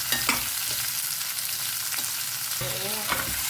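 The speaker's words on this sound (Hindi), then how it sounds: "बस 1-2 मिनट के लिए हमें प्याज के साथ इसको अच्छे से भून लेना है" Cooked hog plum stir-fried with onions in a pan gives a steady close sizzle, with a few scraping stirs of a spoon breaking through.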